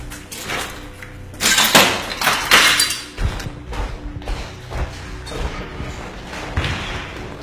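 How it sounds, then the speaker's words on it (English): Enemy gunfire during urban street fighting against ISIS in Marawi, heard as a run of sharp, loud cracks and thuds in the first half, followed by scattered fainter reports and rumble. "With the enemy now firing back"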